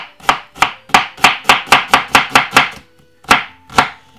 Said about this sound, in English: cut it up very small